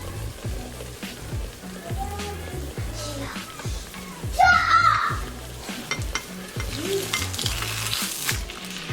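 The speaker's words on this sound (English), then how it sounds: "So you're just cooking the sauce with the tortilla." Red enchilada sauce bubbles and sizzles steadily in a pan as a tortilla cooks in it, with stirring and scraping strokes and a brief clatter midway, all close and continuous.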